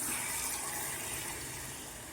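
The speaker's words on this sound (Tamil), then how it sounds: "இப்போ மிக்சி ஜார் கழுவி அந்த தண்ணியை சேர்த்துக்கலாம்" Rinse water from a mixer jar pours and splashes steadily into a vessel of coriander chutney, a continuous rushing gush close by, easing slightly toward the end.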